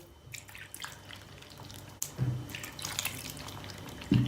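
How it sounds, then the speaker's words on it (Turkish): Water trickles and drips as it is poured slowly into a bowl of flour and yeast dough, with soft splashes and a few louder pours, close and fairly quiet. "İkinci su bardağı suyumuzu da kattık."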